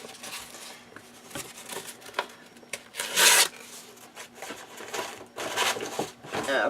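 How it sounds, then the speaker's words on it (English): A surface being sanded by hand to take off its shine, heard as close, steady scratchy rubbing strokes of varying length, with a few louder rasping passes and no talk. "you just want to sand it down to get that shine off of it"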